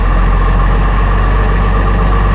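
A Case Puma 165 tractor engine idles steadily at 750 RPM in the cold, a loud, close, unbroken low rumble with no voices.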